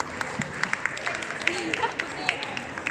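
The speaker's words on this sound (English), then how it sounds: "Round of applause, everyone." Guests at the Philippine National Day Ball 2022 give a round of applause. The clapping is light and scattered, with sporadic distinct claps over a murmur of voices in the hall.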